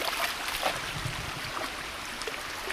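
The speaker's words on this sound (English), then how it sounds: "that's a little creek that runs through" A small creek in Tennessee woods trickles and gurgles steadily, a soft broadband wash of running water with faint scattered splashy accents, nobody talking.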